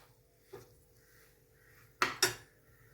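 Cooked tomato rice being scooped from a pot into a pressure cooker container gives a soft scrape followed by two sharp metallic clinks of utensils against the pot, close and otherwise quiet.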